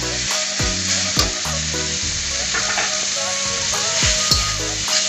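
Red, green and bird's-eye chilies with tomatoes fry loudly in a pan, a constant close sizzle broken by repeated scraping knocks as they are stirred.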